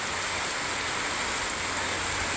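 Heavy rain falling in Khulna, Bangladesh, a dense, continuous wash of hissing downpour that stays loud and even throughout, with no voices.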